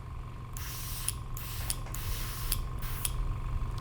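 An airbrush blows out leftover rinse water in several short hissing bursts, each lasting a fraction of a second, over a low steady hum.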